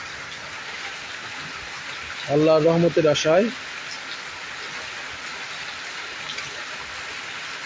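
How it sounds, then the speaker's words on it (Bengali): Steady rain pours down in Rajbari, a constant even hiss with no break, while a voice speaks briefly in the middle. "এই বৃষ্টির অনুভূতিটুকু আপনাদের সঙ্গে শুধু শেয়ার করার জন্যই লাইভে আসা"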